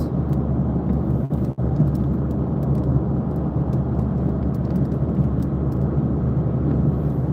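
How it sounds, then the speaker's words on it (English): Heavy rain shower drumming on a car as it drives along a Florida highway, a steady dense wash of rain and road noise from inside the cabin with a brief dip near the start. "Pretty heavy rain shower we got here right now."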